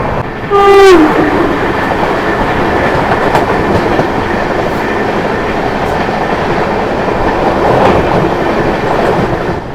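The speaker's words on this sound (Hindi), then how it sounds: "देखो 120 प्लस आ गई है स्पीड, मतलब फुल फॉर्म में आ गई है अपनी श्री शक्ति एक्सप्रेस" The Shri Shakti AC Express runs at over 120 km/h from Katra toward New Delhi in dense fog, with a loud, continuous roar of wheels and wagons and a short horn blast near the start.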